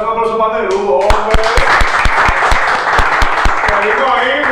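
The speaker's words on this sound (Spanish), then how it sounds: "un aplauso para Nerú, hombre." Applause and clapping for a guest on a debate show, with sharp rhythmic claps sounding over a continuous musical bed and voices, loud and close throughout.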